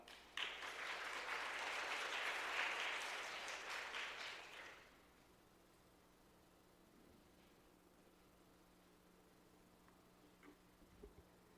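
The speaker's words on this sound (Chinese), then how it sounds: "我们一起拍手来欢迎她" A church congregation at a Sunday worship service bursts into warm clapping to welcome a speaker, a full round lasting a few seconds before fading to near silence with faint room noise.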